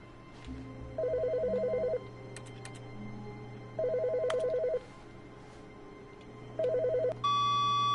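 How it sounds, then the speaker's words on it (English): A telephone rings in a video game set in a workplace, three separate bursts of steady electronic ringing with quiet pauses between them, close and clear with no talking over it. "It's a phone ringing."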